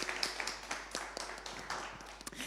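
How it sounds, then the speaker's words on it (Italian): Audience applauding guest writers Aurora Tamigio and Emanuela Canepa at a women's literary event; soft, fairly distant clapping with scattered sharp claps, steady for the whole stretch. "Facciamo un applauso così."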